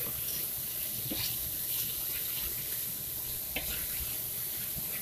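Beef tips sizzle in a hot pan as they are stirred, a steady close crackle with a few scraping strokes of the spoon and watery hiss throughout.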